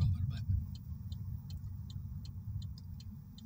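Road traffic in Western New York passes by, a steady low rumble of cars with a faint repeated ticking above it, heard from inside a moving vehicle.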